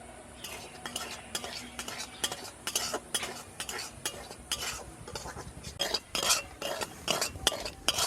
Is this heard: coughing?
no